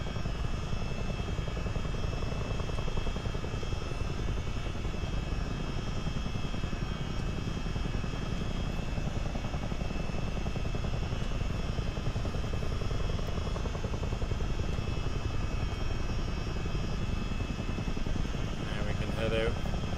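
Steady, loud rotor and turbine drone of a CH-47D Chinook helicopter in a flight simulator game, holding a near-stationary lift-off; the broadband whine runs unbroken throughout with no spoken voice.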